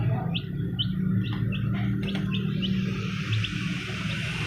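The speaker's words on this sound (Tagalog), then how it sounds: "Lima na tayong sisiw." Baby chicks chirp in short, high repeated peeps over a low steady background hum, close by and fairly faint.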